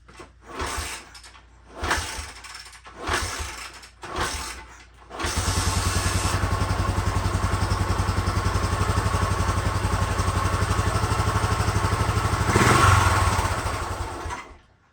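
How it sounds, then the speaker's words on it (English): A 1974 Honda motorcycle engine being started on choke: several short starter cranks sound first, then the engine catches and idles loudly and steadily up close, with a brief surge in revs near the end. "Let's see if we can get her to fire up. I got the choke pulled out."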